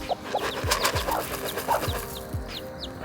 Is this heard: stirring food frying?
no